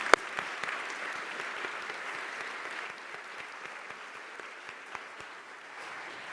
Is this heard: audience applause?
yes